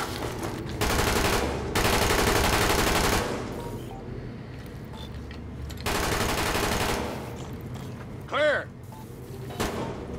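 Automatic gunfire bursts loudly in The Division, a shooter set in Manhattan's Murray Hill, with sustained volleys and pauses between them and shouted voices mixed in.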